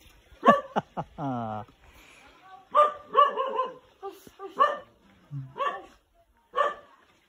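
Close, loud barking and yipping from a village dog in Simpang Pining, with a drawn-out whimpering whine early on and then a run of irregular barks over several seconds.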